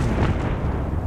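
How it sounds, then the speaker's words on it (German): Artillery howitzer barrage in the Company of Heroes 3 war video game, a heavy, rumbling boom of cannon fire with a dense low-end roar lasting about a second. "Acht Schüsse."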